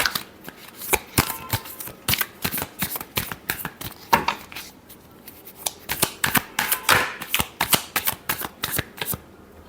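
Tarot cards are shuffled by hand in quick, crisp riffling bursts, close and distinct, with short pauses between rounds and no talking.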